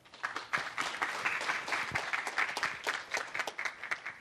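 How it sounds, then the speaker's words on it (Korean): A conference audience at a Korean forestry outlook session applauds as a speaker is welcomed, fairly soft but steady clapping that rises quickly and carries on evenly for a few seconds. "큰 박수로 엄유리 박사님 맞아주시기 바랍니다."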